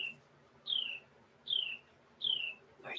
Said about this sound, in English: Listen to this beautiful bird singing.